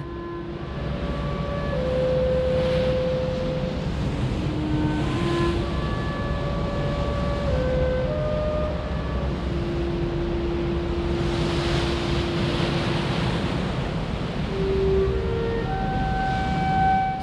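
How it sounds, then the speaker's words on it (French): Waves break on a coastline in a steady, loud wash of surf and foam that churns continuously, with sustained musical tones layered over it. "à l'endroit où les vagues se brisent sur la côte"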